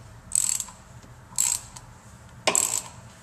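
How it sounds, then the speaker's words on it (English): A socket ratchet turns out a gummed-up power valve on a Ski-Doo MXZ 600 HO Adrenaline snowmobile, giving three short close clicking ratchet strokes at roughly one-second intervals. "so I'm going to have to keep using the socket here to get it all the way out."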